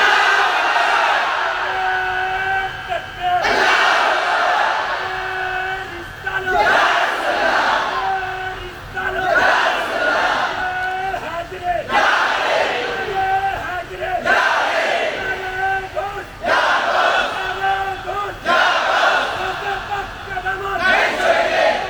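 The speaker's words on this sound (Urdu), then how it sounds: "یہ میرا بھائی نعرہ لگائے گا, ان کی آواز جتنی بلند ہوگی ان سے بھی زیادہ بلند آواز میں" At a religious gathering honoring Hussain, a leader shouts slogans and a large crowd roars back in call and response, several loud surging exchanges separated by brief pauses.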